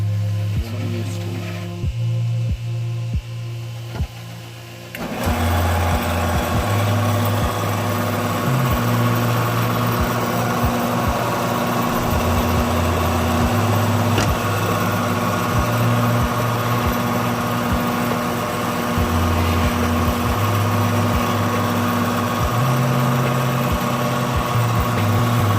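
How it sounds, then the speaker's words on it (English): Drill press boring holes into center-punched forged steel ice-cream scoop handles, a steady loud motor hum and whine running continuously with faint shifting tones as each hole is cut, no talking. "so now we just gotta drill all of them"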